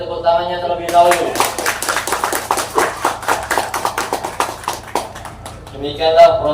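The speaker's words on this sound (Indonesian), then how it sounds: "Beri tepuk tangannya terlebih dahulu" An audience at a Quran recitation graduation ceremony claps in a brief burst of sharp, rhythmic hand claps, framed by a voice speaking before and after.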